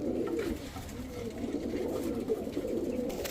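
Giribaz high flyer pigeons cooing steadily and close by, a continuous low murmur of overlapping coos throughout.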